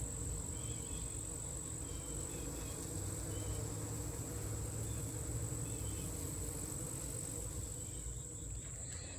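A dense, steady buzzing of many honeybees at their hive fills the clip, continuous and close, with a faint high whine running throughout and no voices.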